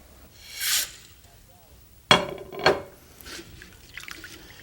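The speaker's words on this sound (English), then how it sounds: "you have to wash the dal. Let's take it over to the sink." Dal rinsed by hand at a kitchen sink, with short splashes and sloshing of water against a bowl, a pouring burst and a couple of quieter swishes, fairly close and moderate in level.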